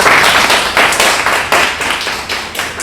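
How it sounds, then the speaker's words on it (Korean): A church congregation claps together in a burst of rhythmic applause during a Sunday service, steady and close, with no talking over it. "박수 한번 쳐줄까요?"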